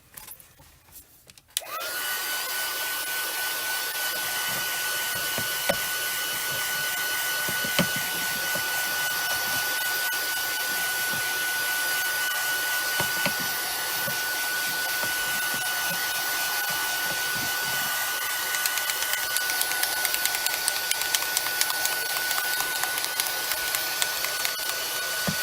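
A heat tool or dryer blows steadily across a stamping project to dry the ink, a constant close whirring hum that starts abruptly and runs without pause, with no talking.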